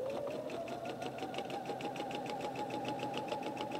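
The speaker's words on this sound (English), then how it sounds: "line this up. We'll continue to work our way around." A sewing machine runs steadily while stitching a log cabin quilt block, its rapid, even needle chatter close and continuous with a constant motor hum, no talking.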